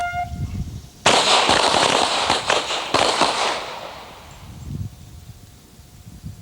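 Police cadets at the Pennsylvania State Police Academy range firing pistols in a rapid volley of sharp cracks lasting about two seconds, loud and close, then fading into quiet.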